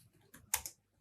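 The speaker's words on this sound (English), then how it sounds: "type our first Python code" A few keystrokes on a computer keyboard, typing out a line of Python code: soft, quiet clicks close by, with one sharper tap near the middle, lasting about a second.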